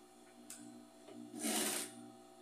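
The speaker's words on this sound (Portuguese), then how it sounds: "Passando a costura em cima aqui da minha bainha." A sewing machine stitches over the folded hem of a round knit-scrap rug, a short buzzing run of under a second that swells near and steady, preceded by light handling clicks.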